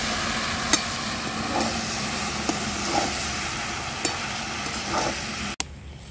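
Two chopped tomatoes frying in a pan for Bengali sabudana khichuri, a dense, steady sizzle with occasional soft stirring taps, then a sudden cut to a quieter hiss near the end.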